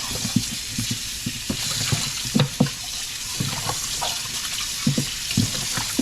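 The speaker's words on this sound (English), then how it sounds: "we're gonna go in with some cold water again and rinse this all off" Cold tap water pours over oxtail being rinsed in a kitchen sink, a steady close rush broken by irregular splashes and clunks as the meat is handled.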